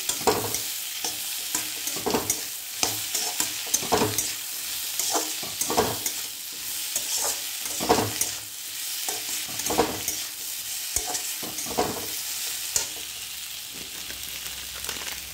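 Kawoi fish frying with taro and ginger, garlic and chili paste is stirred in a sizzling pan, with repeated close scraping strokes of the spatula over a continuous crackle, and no talking.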